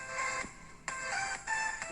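An Amazfit GTR 47 smartwatch alarm goes off with its strong vibration, sounding as three repeated tonal, buzzing pulses about half a second apart, close and moderately loud, with no talking.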